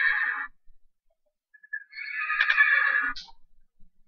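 A Minecraft horse whinnies in loud, close bursts, a short neigh followed after a pause by a longer shrill one, with small snorts between and no talking.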